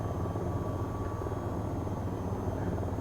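The AH-94 attack helicopter in VTOL VR gives off a steady, loud rotor and engine drone that holds constant throughout, with a faint high whine running above the low throb.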